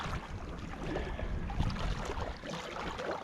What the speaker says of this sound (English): So once we get into a little bit deeper, we can start paddling.